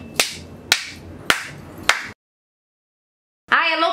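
Four sharp, evenly spaced hand claps ring out close and loud, followed by a silent gap and then a brief burst of a voice.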